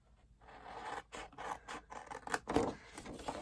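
Scissors snip through a scored paper gift bag in a series of short, close rasping cuts and scrapes, uneven in rhythm and building toward a louder crunch near the end, with no talk.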